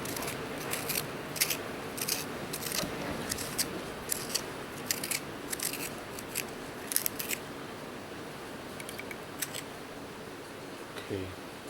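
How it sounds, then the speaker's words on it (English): A pencil is turned in a small handheld sharpener, giving repeated close, crisp scraping and crunching bursts in an uneven rhythm that go on for several seconds. "It's really kind of overwhelming to be sharpening these pencils now"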